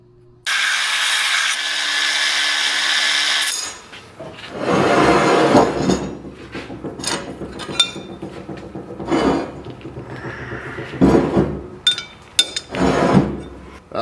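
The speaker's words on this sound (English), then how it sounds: "Let's start hammering this thing out." Metal blank being hammered out by hand to form a prosthetic hand part in a workshop, loud irregular clanging strikes with brief pauses, preceded by a few seconds of steady loud broadband noise.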